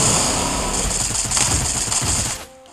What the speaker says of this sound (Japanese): なんか向こうで銃声の音が聞こえたけど